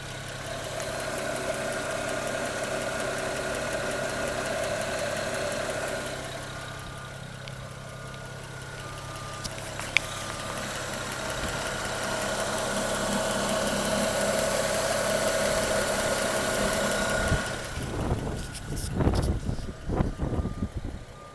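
A 2007 BMW 335i engine idles smoothly, heard close up at the belts, a steady even hum with a faint whine, ending in some handling noise and knocks.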